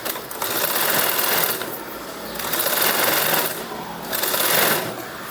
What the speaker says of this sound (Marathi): त्याच्यानंतर आता आपल्याला याला शिलाई मारून घ्यायची आहे